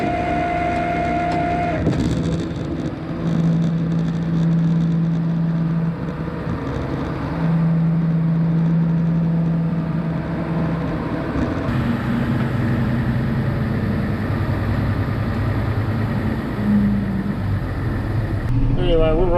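A tow truck rolls up toward a parked car in a tight spot, its engine running steadily up close with a whining drivetrain hum and a few brief tonal beeps, continuous throughout.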